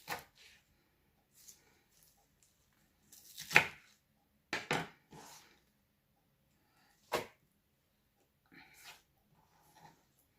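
Coarse chopping of washed spinach with a knife, a handful of sparse, soft cutting thuds with quiet gaps between them in an otherwise calm kitchen.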